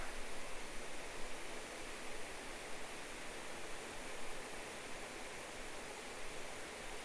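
Continuous close roar of a riverside waterfall in Ito, Shizuoka, an even hiss of churning water that never lets up, with no one speaking.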